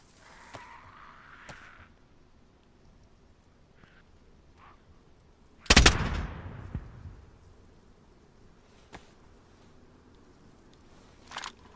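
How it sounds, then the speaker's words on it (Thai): An AK rifle fires in the video game DayZ: one loud, sharp report with a short decaying tail breaks a quiet stretch, and faint clicks and small knocks are scattered before and after it. "ใครยิงเอเคเราหรือมันอะ"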